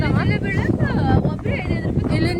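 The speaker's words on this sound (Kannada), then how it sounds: "ಫುಲ್ ಗಾಳಿ ಬಿಟ್ಟೈತಿ." Strong wind buffets the microphone on an outing with family, a loud rumbling gusty roar running throughout while people talk over it.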